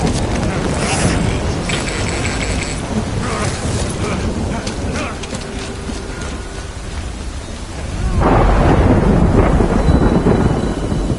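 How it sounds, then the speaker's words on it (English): Rain and thunder in the video game Death Stranding: steady rain hiss with creaking and mechanical noises, then a loud low thunder rumble swelling near the end, under faint game ambience. "Good thing it was raining."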